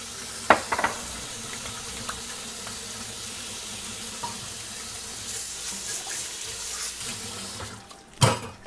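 Water runs steadily from a faucet as hands are washed, a continuous hiss with a few clunks and a sharp knock near the end.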